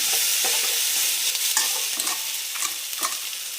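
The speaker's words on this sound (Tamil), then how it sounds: "கல்லுப்பு போட்டு வதக்கலாம். இப்போ இதில் கருவேப்பிலை ஆட் பண்ணிக்கிறேன்" Curry leaves and rock salt sautéing in a pan give a steady bright sizzle, with a few soft scraping stirs scattered through it. No voices are heard.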